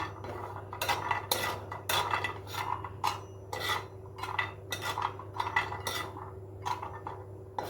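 Peanuts dry-roasting in a hot pan for baby food, stirred with a utensil: a series of close, rhythmic scraping and rattling strokes against the metal, about a dozen bursts, with no talk.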